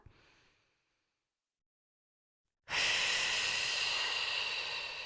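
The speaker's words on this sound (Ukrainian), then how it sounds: "Ще раз вдих. Видихаємо." Breathing during an abdominal and pelvic floor exercise: a faint short breath at the start, a few seconds of silence, then a long, loud, close hissing exhale that lasts to the end, with no talking.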